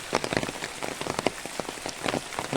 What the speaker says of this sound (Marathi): सकाळपासून पाऊस चालू झाला आहे भरपूर